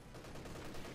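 Machine gun fire in the World War II strategy game Company of Heroes 2, a dense, muffled, continuous rattle of rapid shots at moderate distance for about a second.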